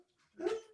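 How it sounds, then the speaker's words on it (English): A pet dog gives a single short, muffled bark somewhere in the room, faint and brief, after a moment of near silence. "Sorry, that was my dog."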